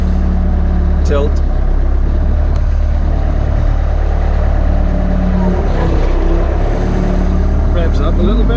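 An M.T.D 116 machine with lever and foot-pedal controls runs loud and close, its engine droning continuously with slight rises in revs and brief mechanical clanks.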